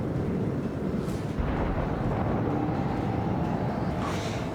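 Torpedoes strike a pirate ship in the video game Rogue Trader, a dense, continuous roar of rumbling blasts and crackling fire filling the clip at steady loudness without a break.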